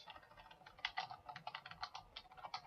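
A computer keyboard clicks under quick, irregular keystrokes, a close but quiet run of typing with no voices.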